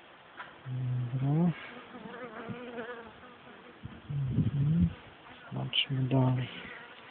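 Honeybees buzz close by at an open hive in rising and falling bursts, droning loudly then fading, while a person speaks briefly in between.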